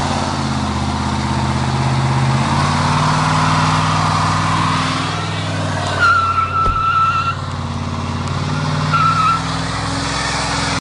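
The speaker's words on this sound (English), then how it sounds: "It's a classic Dodge with a thumpy V8, and you can really make these trucks sound nice." A classic Dodge truck with a 5.7 Magnum V8 runs with a deep, steady engine rumble, close and loud, with a brief rev and some mechanical clatter midway.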